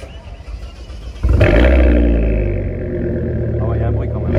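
An Audi RS6 V10 with an HMS exhaust line cranks and fires up with a loud roar at about one second in, then settles into a deep, rumbling idle close by.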